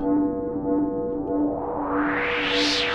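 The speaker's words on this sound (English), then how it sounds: "I've got some white noise." A modular synthesizer's white noise hisses while a filter sweeps upward, brightening steadily toward the end, over a sustained low tone.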